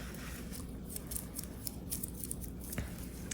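Scissors snip through black lace for a junk journal cover, a quick run of crisp close cuts with soft rustling of the fabric, quiet and without talk.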